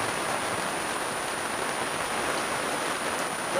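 Steady, heavy rain during a squall on a sailing cruise hisses evenly throughout, a dense wash of drops with no pauses or voices.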